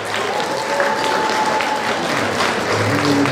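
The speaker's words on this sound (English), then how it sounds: "a round of applause for our first honoree of the evening" Sustained applause from a gala audience at a Jamaica 60 Diamond Jubilee celebration, greeting an award honoree. The clapping is dense and steady and fills the whole stretch at an even loudness.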